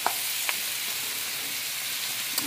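Potatoes and onions fry in a pan with a steady, close sizzle, broken by a few soft scrapes and taps as they are gently folded over.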